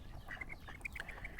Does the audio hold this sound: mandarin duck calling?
yes